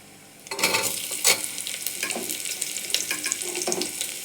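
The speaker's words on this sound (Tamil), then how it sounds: "அரிக்கி வச்ச வெங்காயத்தை போட்டுக்கலாம். இதையும் நல்லா வதக்கலாம்." Onions for a vegetable biryani sizzle steadily in a pan, with repeated scraping stirs and clatter against the metal throughout, close up and without talk.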